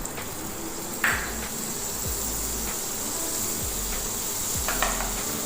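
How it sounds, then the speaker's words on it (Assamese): Butter melting in a wok while making butter chicken gives a steady, close hiss, with a few faint clicks of movement breaking through and no talking. "এতিয়া এই কেৰাহীখনতে মই এচামুচ বাটাৰ দিম"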